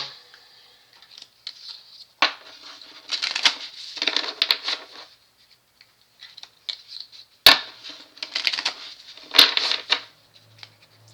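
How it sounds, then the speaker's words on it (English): Bursts of quick riffling and soft flapping as a deck of cards is shuffled, repeated several times with short pauses between, close by and fairly clear with no talking. "I gotta shuffle those cards"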